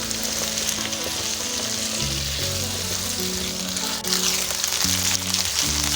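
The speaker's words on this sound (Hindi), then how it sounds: "ये देखिए आलूओं में कितना अच्छा कलर आ रहा है फ्राई करने से।" Potatoes fry in a pan for aloo methi with a loud steady sizzle and crackle, while low tonal music plays underneath throughout.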